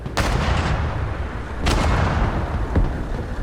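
Artillery fire in the Broken Arrow military strategy video game: two loud, close, booming blasts about a second and a half apart with rumbling tails, then a fainter third shot, over continuous low battlefield rumble.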